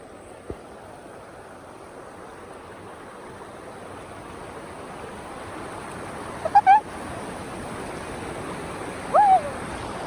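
Steady broadband rush of flowing water fills the whole clip, with a couple of brief faint chirps partway through.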